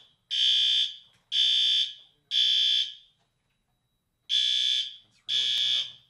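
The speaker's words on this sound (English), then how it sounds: "Okay, well, that's the fire alarm" A fire alarm sounds in a board meeting room as five loud, even electronic tones of about half a second each, with a longer pause before the last two and no talking over them.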